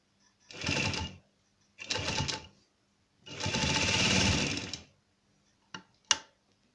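Sewing machine stitching the hem of a salwar, running in three loud whirring bursts of a second or more each, then two brief short stitches, close and alone with no talking.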